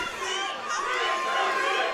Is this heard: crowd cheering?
yes